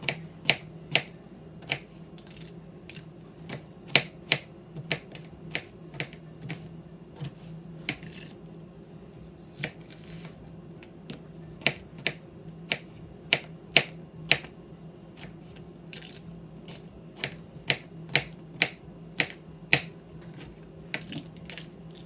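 A knife chops food on a cutting board while tacos are prepared in a home kitchen, sharp close taps in an irregular series with short pauses, over a low background hum and no speech.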